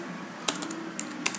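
A computer keyboard typed on in a quick run of crisp, close keystrokes, several clicks in a short burst over a steady background hum.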